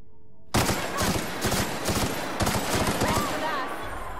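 Rapid bursts of gunfire from a firefight in the video game The Outer Worlds, loud and close, with repeated volleys over a constant background hum.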